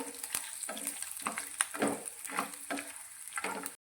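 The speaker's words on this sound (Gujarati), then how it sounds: "અહીંયા લસણ પણ આપણું સારી રીતે સંતળાઈ ગયું છે" Garlic fries softly in oil in a pan, punctuated by repeated scraping stirs, about seven strokes in a loose rhythm, close and fairly quiet.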